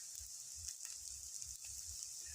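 Onion-stalk and potato fritters fry gently in oil over a low flame, giving a soft, steady sizzle and hiss that runs without a break throughout.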